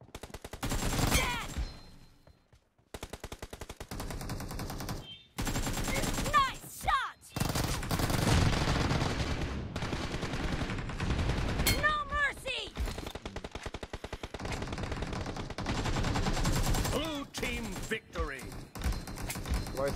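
Gunfire in the mobile shooter BGMI, dense bursts of rapid automatic shots cracking in long loud volleys with brief silent gaps, while someone talks over the fighting.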